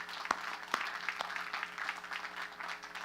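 Applause from the audience at a college commencement ceremony, a soft, roomy patter of clapping hands with a few louder individual claps near the start, set over a steady low hum of the hall.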